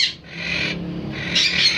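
A quaker parrot in a colony breeding setup gives harsh, raspy squawking calls in two or three close bursts with a brief gap between them.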